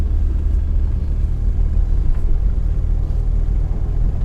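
A car driving along a road from Burnt Savanna to Santa Cruz in St. Elizabeth, Jamaica, a day after Hurricane Grace: a loud, steady low engine and tyre rumble heard from close by, with no talking.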